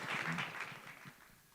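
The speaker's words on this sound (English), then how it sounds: "You can applaud for that too." Brief, fairly faint applause from an audience at a university pitch competition event, a wash of clapping that thins out and fades within about a second.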